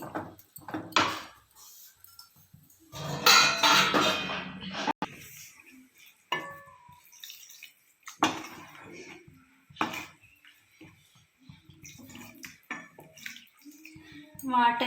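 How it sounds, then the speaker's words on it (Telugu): Water is poured into a pan of frying dried shrimp curry in a home kitchen, a loud splashing gush lasting a couple of seconds amid clinks of utensils and intermittent talk. "వాటర్ వేసుకుందామండి"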